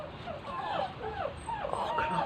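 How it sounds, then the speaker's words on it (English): A big dog and others behind a fence whimper and yip in rising, wavering whines with a few short barks, fairly close and continuous, while a person talks nearby. "Oh, there's a big dog too."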